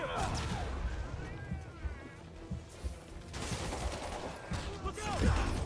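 Gunfire in the video game Spider-Man 2: rapid sharp shots and impacts that crackle through a short action sequence, mixed with game sound effects and moderately loud.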